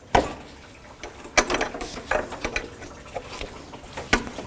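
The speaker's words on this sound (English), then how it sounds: "16mm wrench." A 16mm wrench working the power steering pressure line loose on a Jeep Cherokee, with irregular metallic clicks and scraping taps close up, no talk.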